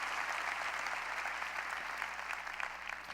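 A church congregation applauds during a sermon, a dense, steady wash of clapping from many hands that fills the space without voices.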